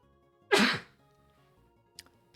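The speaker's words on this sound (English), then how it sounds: "Sneeze." One loud, close human sneeze, a sharp explosive burst lasting about half a second, followed by a faint small click and then quiet.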